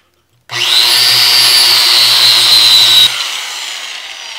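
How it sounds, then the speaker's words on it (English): An angle grinder cuts through the bead of a tire while scrapping aluminum rims, giving a loud, steady high-pitched whine for about two and a half seconds before it spins down. "Take your angle grinder."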